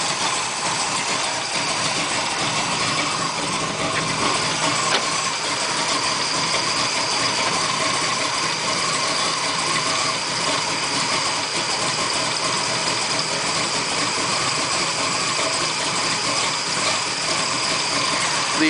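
A big-block V8 fitted with a Holley carburetor idles steadily, a continuous loud even rumble with no revving, running alone throughout.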